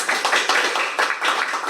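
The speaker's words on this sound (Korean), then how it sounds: "큰 박수 부탁드립니다" An audience at a National Assembly policy forum on game IP protection claps steadily for an opening speech, a dense close patter of many hands with no voices over it.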